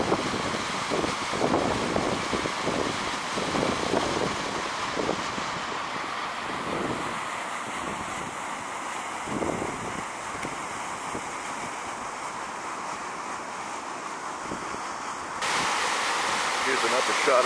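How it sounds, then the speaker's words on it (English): Storm-swollen Santa Ana River in Santa Ana, California, surging against a bridge pillar, a continuous broadband rushing roar mixed with wind buffeting the microphone, steady throughout. "Here's an upper shot of the river hitting the pillar of the bridge."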